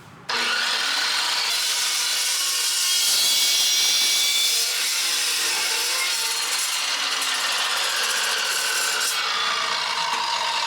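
A metal-cutting saw with blades rather than an abrasive wheel bites through steel, producing a loud, continuous rasping scrape that starts abruptly and carries on steadily without a break.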